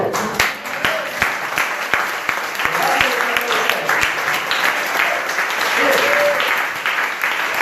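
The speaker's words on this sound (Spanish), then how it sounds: "levántele un aplauso a él" A church congregation applauds during a sermon, a full burst of clapping with sharp individual claps standing out, while voices call out over it throughout.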